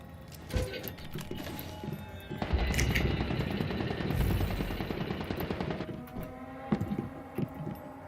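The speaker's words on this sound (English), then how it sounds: "Shots fired, shots fired." Loud sustained burst of automatic gunfire in the game Once Human, a dense rapid rattle lasting several seconds, framed by a few scattered single shots before and after.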